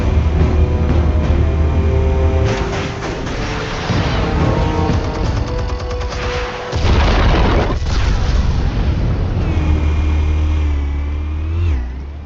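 Explosives detonate in Batman: The Telltale Series, giving loud booming blasts and rumbling debris that fill the scene, with a roaring engine-like surge and a fading whine at the end.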